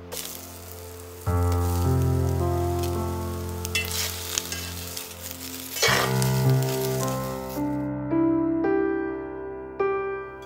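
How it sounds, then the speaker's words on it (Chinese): Onions frying in a pot until browned, a steady sizzle with bursts of crackling, heard beneath loud background music. "放到锅里煎到上色。"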